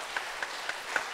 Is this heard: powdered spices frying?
no